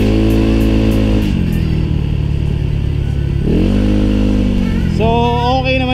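A Yamaha Mio 1 scooter revs hard and close, its engine pitch rising and falling through three distinct throttle blips with a steady loud drone between them, and no voices.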